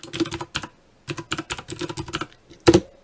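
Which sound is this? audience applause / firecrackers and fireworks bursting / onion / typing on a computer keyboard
typing on a computer keyboard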